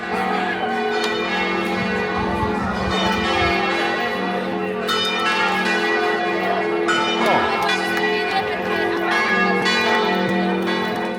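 Church bells pealing in the centre of Udine, Italy, with several bells ringing together in a rich, overlapping chime, loud and continuous, with street noise faintly beneath.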